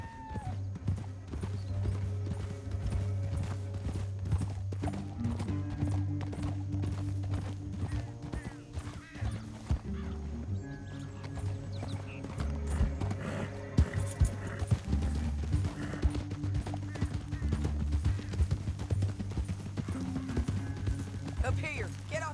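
Horse hooves clip-clop at a steady gallop in Red Dead Redemption 2, a continuous rhythmic pounding under game music and character dialogue throughout.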